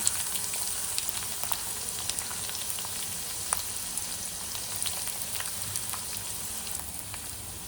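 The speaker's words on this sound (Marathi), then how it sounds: "कांदा चांगला परतून घ्यायचा" Chopped onion with green chilli and curry leaves sautéing in a pan, giving a continuous crackling sizzle with scattered pops and faint stirring, close and alone.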